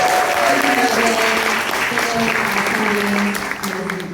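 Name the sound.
audience applause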